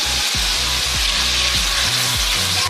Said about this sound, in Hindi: 1 मिनट हम इसको फ्राई करेंगे